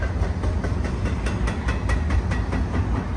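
A BNSF intermodal freight train rolls past the hub near the Colton rail yard without stopping, carrying mixed containers; a steady, loud rumble of wheels and engine with rhythmic clicks runs throughout.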